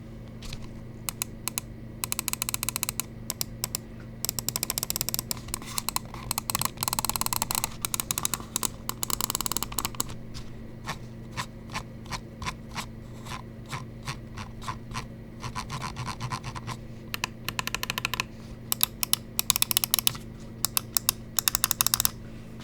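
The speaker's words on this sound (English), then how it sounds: "Let's go ahead and drop the click quality sound test." Rapid, fairly faint clicking from the buttons of a 35 g G-Wolves VUK 8K wireless gaming mouse, irregular bursts of sharp taps over a low steady hum, with no talking.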